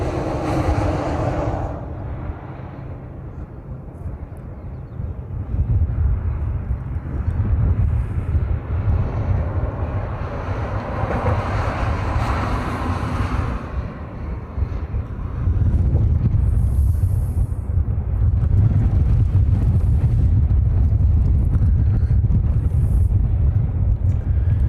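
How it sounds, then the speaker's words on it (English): Strong wind buffets the microphone at an outdoor plane-spotting spot in Hawaii, a constant roaring rumble that surges louder halfway through and stays heavy, with no talking. "trust me, there is no earthquake. It's just the wind."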